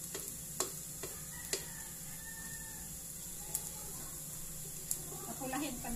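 Garlic frying in a pan for red fried rice gives a steady, fairly quiet sizzle, broken by a few sharp isolated ticks and pops.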